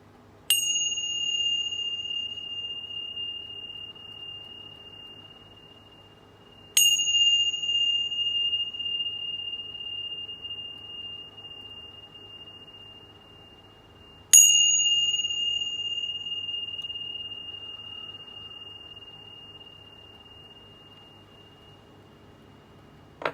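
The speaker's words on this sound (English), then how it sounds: "But first, let's chime." A chime bell is struck three times at spaced intervals, each strike a bright, clear ring with a long sustained tone that slowly decays, alone with no talking.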